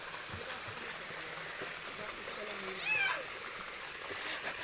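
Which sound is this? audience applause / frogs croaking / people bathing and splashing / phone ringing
people bathing and splashing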